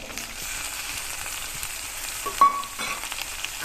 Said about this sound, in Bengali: এগুলো জাস্ট হালকা ভেজে নেব